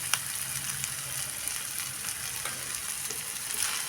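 Tomatoes sauté in a pan on the stove, a steady bright sizzle with faint stirring scrapes running throughout, close and even, with no talking.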